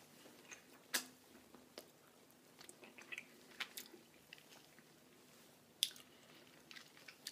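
Ripe marula fruit being bitten and chewed close up, with soft wet squishes and a few sharp crisp bites scattered across a quiet background, no talking.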